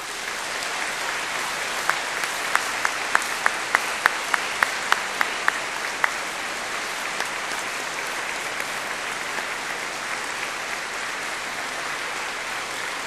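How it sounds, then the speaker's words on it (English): Graduates at a university graduation ceremony in Cardiff give their family and friends a sustained, enthusiastic round of applause, a large hall full of dense clapping, with a few sharper claps standing out near the start. "giving an enthusiastic round of applause"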